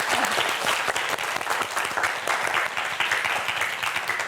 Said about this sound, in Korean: 최혜찬 학생을 위해서 큰 박수 부탁드립니다